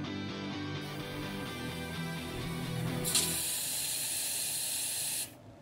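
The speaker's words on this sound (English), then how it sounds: "go ahead and crack open the hose bib to let the air out of the lines" Outdoor hose bib cracked open to purge air from the water line, a sharp hissing spray that surges louder partway through and then cuts off abruptly near the end, heard up close.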